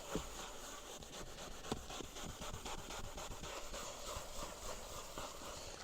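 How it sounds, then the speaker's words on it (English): A brush spreads wood conditioner across a surface with soft, continuous scratchy strokes, a faint close rasping that repeats steadily without any talk. "I'm more or less just guiding the brush."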